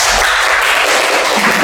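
A classroom group bursts into loud, dense applause, close and continuous for a brief moment with no voices over it.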